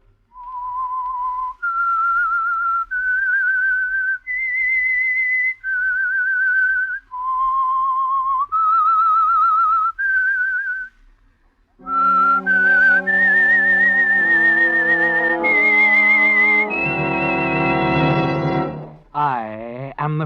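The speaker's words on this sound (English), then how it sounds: "That whistle is your signal for the Signal Oil Program," A whistled radio theme signal plays as a clear solo tune of about ten sustained, pure notes stepping up and down, then a brief orchestral passage picks up the melody with rich held chords.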